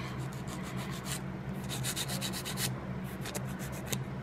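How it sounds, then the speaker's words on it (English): Nail file rubbing back and forth across a pop-on false nail, a steady close-up scraping in repeated strokes with brief pauses between bursts, no talking. "So I'm going to just keep filing there."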